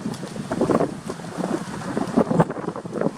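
Strong wind gusts buffet the microphone outdoors while pigeons fly overhead, a steady roaring rush with irregular louder swells and no voices.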